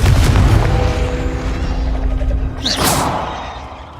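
A Confringo explosive spell cast in Hogwarts Legacy, heard as a loud booming blast with a whooshing burst near the end that fades out, and no talk.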